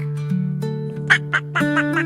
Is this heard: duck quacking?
yes